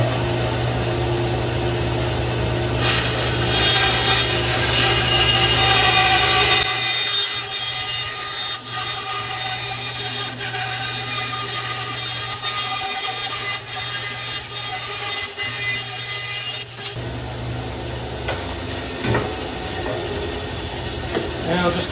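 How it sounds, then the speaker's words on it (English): A bandsaw cuts a long, gentle freehand curve through a wooden board for a garden bench. The motor runs at a steady hum while the blade's rasping cut rises and falls. The pitch shifts midway as the wood feeds through, then settles. "I'll just take that over the bandsaw and cut that"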